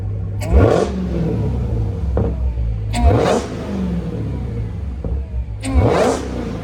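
A Hellcat car engine fitted with a JLT aftermarket intake revs hard three times, each rise in pitch ending in a throaty burble before settling back to a steady idle.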